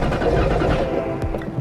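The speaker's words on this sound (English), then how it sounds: "Let's see if I can get it to start now." A 5.0-swapped Ford Mustang engine cranks over and sputters as it tries to catch, close and loud, a rough uneven churning that never settles into a steady idle.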